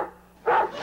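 A single dog bark from a children's TV comedy weather segment, one short bark near and fairly loud after a moment of quiet.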